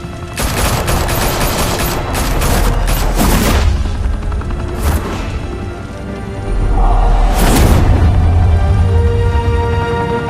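Mobsters open fire in the Telltale Batman video game, a dense volley of loud, rapid gunshots that keeps going for several seconds, with sharp bursts standing out over continuous rattling fire.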